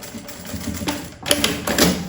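A sewing machine stitching a zippered pouch with a hard plastic tractor zipper chatters at close range, a fast even clatter that hesitates around the midpoint and picks up again.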